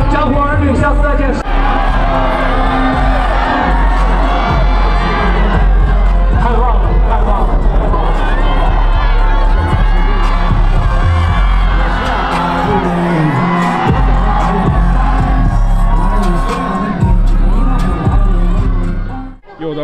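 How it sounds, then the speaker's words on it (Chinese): A music festival crowd screams and cheers loudly and continuously, a dense roar of whoops and shouting voices that holds strong before cutting off abruptly at the end. "把尖叫声送给你们自己"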